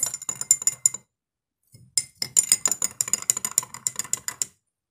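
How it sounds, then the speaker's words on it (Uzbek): Water being stirred in a glass jar to mix a drink sounds as rapid, rhythmic clinks of a utensil against the glass, with bright repeated ticks, a brief pause, then a longer run of stirring. "yaxshilab aralashtiramiz"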